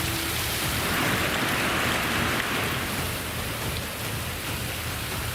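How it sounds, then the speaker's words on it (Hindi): Heavy torrential monsoon downpour during flooding in Nepal and Bihar, a dense, steady roar of rain pounding surfaces that holds at an even, loud level from start to finish with no voices. "ऊपर से तबाही मूसलाधार बरस रही है।"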